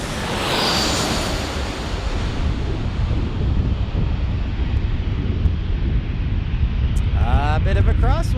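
A crosswind gusts at a San Diego airport, roaring as heavy buffeting across the microphone, steady and loud throughout, with a voice briefly speaking near the end.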